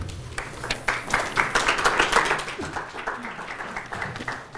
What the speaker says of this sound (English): Applause at the beginning is very good